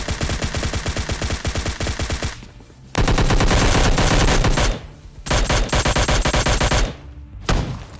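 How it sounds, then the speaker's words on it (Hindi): Rapid gunfire in PUBG Mobile Lite, a dense run of loud repeated shots with brief pauses and a few longer bursts, an enemy shotgun firing from a distance during a fight in a factory. "जो कि इतनी दूर से भाई शॉटगन चला रहे हैं"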